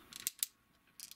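Ratchet hip joints on a Fansproject Cubrar transformer toy click in a few quick, faint bursts, two close together and then another short cluster after a pause.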